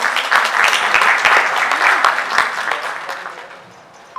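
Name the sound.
applause for the CEO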